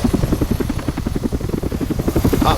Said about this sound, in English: that was the police helicopter from Lego City Undercover